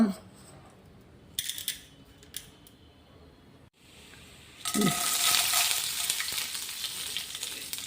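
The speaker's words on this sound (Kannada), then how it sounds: "ಎಣ್ಣೆ ಬಿಸಿದ ತಕ್ಷಣ ಸಾಸಿವೆ, ಕಡಲೆಬೇಳೆ, ಉದ್ದಿನಬೇಳೆ ಹಾಕುವ" Oil begins to crackle and hiss loudly after a quiet start with a few clinks as mustard seeds, chana dal and urad dal go in, sizzling steadily to the end.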